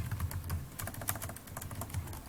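Rapid keystrokes on a computer keyboard while entering a field name in a Microsoft Access database, a steady close-up clatter of key presses with no talking.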